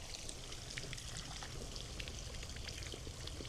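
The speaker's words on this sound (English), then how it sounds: "the water just started flowing" Water running out of hydroponic irrigation lines in a greenhouse gives a steady, fairly loud splashing rush with fine dripping and trickling detail throughout, with no one talking.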